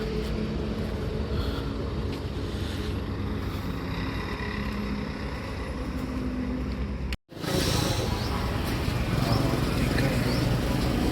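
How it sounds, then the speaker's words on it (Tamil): Vehicles pass by on a road near a roadside biryani stall in Ambur, making a steady rumbling wash of traffic noise that continues with a brief dropout, loud and close, with no clear talk. "அங்கங்கே வண்டி வந்து சவுண்டு போடுது"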